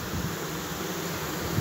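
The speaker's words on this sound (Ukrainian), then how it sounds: "Сіренькі бджолки, класні. Крупна пчела." Large grey Carnica honey bees, a French Carnica Renson line, hum in a steady, even drone around a strong hive at an apiary.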